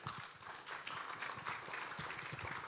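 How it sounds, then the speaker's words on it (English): Conference audience at a social impact assessment conference gives a round of applause, dense continuous clapping heard at a distance and fairly faint, with no speech over it. "please put our hands together and give a round of applause to Frank"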